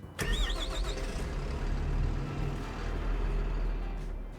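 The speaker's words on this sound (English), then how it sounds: "let's turn over that engine" A Rogator sprayer engine in Farming Simulator 25 cranks with a whirring starter, catches, and settles into a steady low rumble that continues loud and close.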